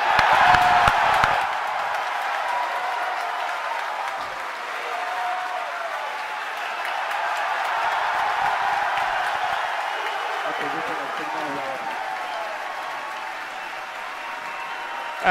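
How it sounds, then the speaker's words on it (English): Crowd at SpaceX headquarters cheering and applauding during the Crew Demo-1 launch, a loud sustained wash of clapping and whoops that carries steadily through the whole stretch with no lull. "As you can hear from the cheering here at SpaceX headquarters, we did have a successful main engine cutoff"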